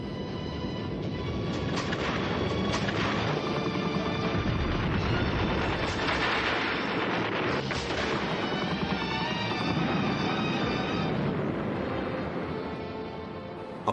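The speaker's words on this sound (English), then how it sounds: "are met with machine gun and artillery fire that results in a massacre of the Japanese soldiers" Dense machine gun and artillery fire from a WWII battle roars continuously at high level, a wall of overlapping bursts and booms with no speech.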